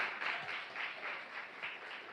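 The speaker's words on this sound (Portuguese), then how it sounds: "Uma salva de palmas para Jesus de Nazaré." Faint, distant applause from a church congregation, offered for Jesus during a service. The clapping swells and dips in a loose rhythm throughout, with no clear speech on top.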